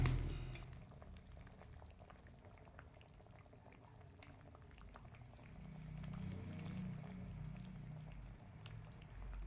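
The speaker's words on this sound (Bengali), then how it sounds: "এবার দিয়ে দিচ্ছি আমি একটা ছোট বাটি 2 বাটি জল।" Water is poured into a pan of sautéed vegetables for a fish curry, a faint steady sizzle and bubbling that swells slightly toward the end.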